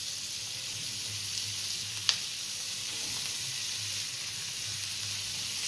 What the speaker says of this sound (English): Now add all the chopped vegetables.